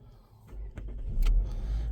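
Engine of a 2020 Chevy Equinox cranking and catching, a short starter whirr building into a low idle, quiet and close inside the car.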